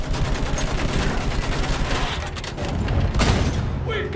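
Rapid machine gun fire rattles through a trench-warfare battle in a war video game, dense overlapping bursts that sound loud and continuous, with a heavier blast near the end.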